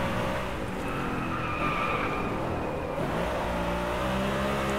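Tyres squeal as a car skids through a handbrake drift in the racing game Driveclub, a loud continuous screech over a steady engine roar with no break in the noise.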